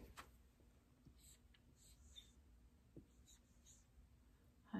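Marker or chalk strokes on a classroom board as a number equation is written, soft scattered squeaks and scratches across several seconds in a quiet room, with faint breathing and no clear speech.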